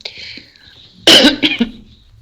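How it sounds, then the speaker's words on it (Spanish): A single loud, harsh cough bursts out after a few seconds of soft background murmur, then trails off into quiet. "Tos en el codo."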